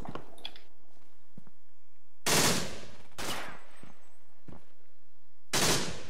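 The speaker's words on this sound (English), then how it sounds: "Is that a machine gunner by any chance?" Bursts of machine gun fire in a WWII video game battle: three loud, dense volleys spaced a second or two apart, with sharper scattered shots and distant cracks between them, and no talking.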